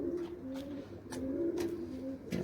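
Pigeons coo in a steady series of soft, throaty calls, close by, with a few brief rustling bursts between them and no talk.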